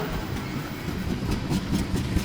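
A freight train rolls past on the rails at Fostoria, Ohio, a steady loud rumble with rhythmic wheel clatter, heard close by and without any voices.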